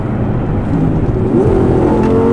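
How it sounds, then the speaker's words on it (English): The V10 engine of an 850 hp Audi R8 supercar rumbles and then revs up, its pitch climbing in a loud, close surge. "It has a V10 engine, so it sounds very nice. Just listen to this."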